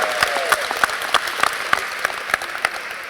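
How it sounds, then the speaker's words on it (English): A crowd at a university event in Huntsville, Alabama gives a warm round of applause, steady clapping with sharp, distinct claps standing out close by at a regular pace. "So give all of those a warm round of applause."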